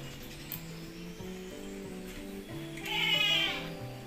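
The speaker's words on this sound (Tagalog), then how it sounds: "pagpasensya nyo yung mga sumisigaw-sigaw dahil sa kambing" Goats bleat repeatedly, their wavering calls overlapping at close range, with one louder, higher-pitched cry near the end.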